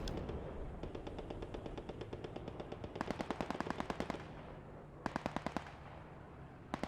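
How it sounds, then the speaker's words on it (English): Aircraft machine guns rattle in a video game strafing run, fast bursts of evenly spaced shots over a steady engine drone, with a long burst, a short burst and a final brief one. "Beautiful strafing run coming down in the middle of the cap."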